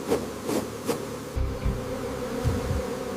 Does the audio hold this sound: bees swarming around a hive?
yes